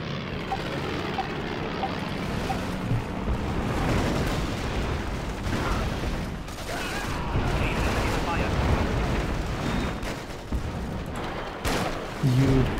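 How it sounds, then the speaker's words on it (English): Bombing run explosions in the strategy game Axis & Allies (2004): a continuous dense rumble of blasts and engine drone that holds steady throughout at a moderate level, with brief voice sounds near the end. "Time for another bombing run."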